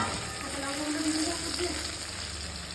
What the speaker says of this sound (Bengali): মাছগুলোকে বৌদি সাজিয়ে দিচ্ছে মাছ ভাজার তেলটাও দিয়ে দিলাম